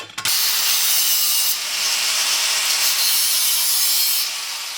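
Steel repair patch for a VW Golf Mk2 wheel arch being cut, a steady, loud, continuous rasping saw or grinding noise that runs almost unbroken for several seconds with no voices.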